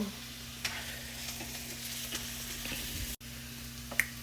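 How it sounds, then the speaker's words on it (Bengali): Browned onions stirred into fried hilsa fish in a pan, a soft, close sizzle with occasional scrapes and light taps of a spatula, no talking. "এখন আমি এটা ফিশের মধ্যে দিয়ে দেব"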